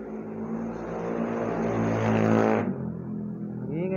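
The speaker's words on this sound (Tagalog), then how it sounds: "Ang ingay ng mga motor." Motor vehicles, likely motorcycles, pass close by with a loud, rising engine drone that swells toward a peak and then cuts off abruptly, near a welding shop building stainless steel tricycle sidecars.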